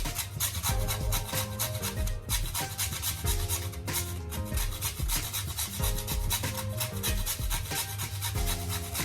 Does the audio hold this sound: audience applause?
no